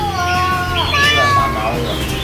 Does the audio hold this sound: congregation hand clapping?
no